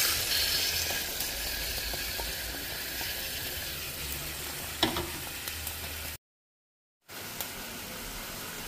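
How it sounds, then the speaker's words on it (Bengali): Beef fries in a pan with a soft, steady sizzle and occasional faint pops, fairly quiet, broken by a short gap of silence before the hiss returns. "দেখো বিফটা কুক হচ্ছে।"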